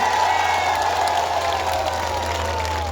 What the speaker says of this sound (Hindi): तो जोरदार तालियों की गड़गड़ाहट से आश्वासन दिला।